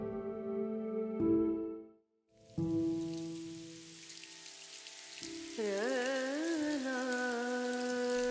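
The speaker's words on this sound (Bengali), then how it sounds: "বাইরে এতক্ষণে বৃষ্টি আবার আরম্ভ হয়েছে" A rain sound effect in a Bengali audio story: a steady hiss of rainfall starts after a brief silence and continues under tonal background music.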